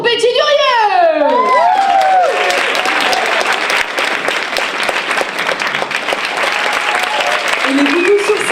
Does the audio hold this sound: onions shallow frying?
no